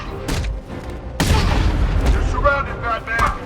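Gunfire in the video game Batman: Arkham Knight, loud booming bursts with a heavy blast just past one second, followed by rattling shots and game voices over the top.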